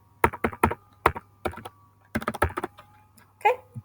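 Quick bursts of keystrokes on a computer keyboard to log in, close and crisp, coming in short uneven runs with gaps between them over a low steady hum.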